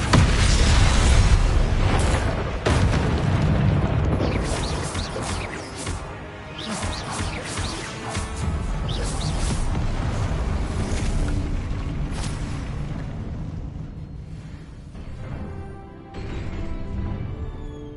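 A Confringo fire spell explodes in the Hogwarts Legacy video game, a loud booming blast up front followed by rumbling crashes and ongoing game effects that gradually settle.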